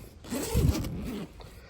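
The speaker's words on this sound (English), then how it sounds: "Inside the Gigaparts Explorer bag, if I can find the two zippers." Two zippers on a Gigaparts Explorer bag are pulled open close by, making a ragged scraping rasp that rises over about a second, then trails off into quiet.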